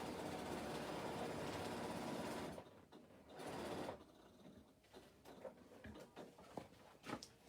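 A sewing machine stitches across the seams of a fabric bag, a steady close whirring run for a couple of seconds, then short bursts and pauses with faint handling noise.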